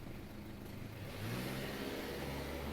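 A car engine in the video game Scarlet Hollow hums steadily, then rises as it accelerates, a smooth mid-pitched drone with no voices.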